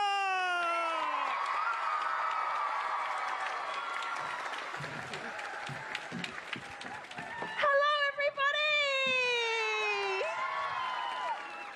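A live crowd at a music celebration day claps and cheers to welcome an ARIA-nominated singer onstage, loud and sustained, with whoops and a voice calling out over the din.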